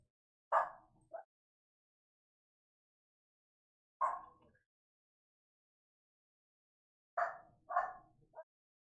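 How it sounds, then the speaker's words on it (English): A real dog barks nearby during gameplay of Shadows of Doubt, giving three separate bursts of one or two short, moderately faint barks with silence between them. "Oh, sorry about my dog."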